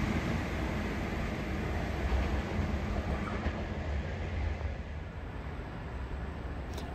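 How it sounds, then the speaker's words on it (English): A Hunter set passenger train rolls through Maitland station on platform 2, a steady loud rumble of wheels and engine that holds up close for the whole stretch with no talk. "We have another hunter set zooming through here on platform 2"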